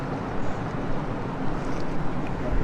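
Water poured steadily over a face during a washing rite, a continuous broadband wash of splashing and trickling throughout, fairly close and without a break.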